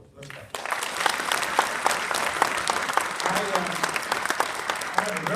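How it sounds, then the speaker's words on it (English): An audience at a community forum on drug awareness breaks into loud, sustained applause, many hands clapping close by for several seconds, with voices mixed into the crowd. "we just need to give her a real loud round of applause"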